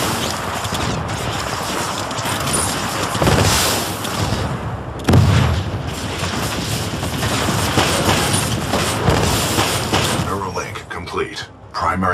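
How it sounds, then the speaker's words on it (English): A shoulder-mounted rocket pod on a Titan fires in Titanfall 2, loud booming launches and blasts amid dense continuous combat noise, with a voice talking over it. "This shoulder-mounted rocket pod will lock onto multiple enemy targets."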